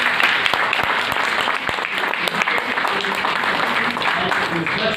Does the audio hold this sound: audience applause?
yes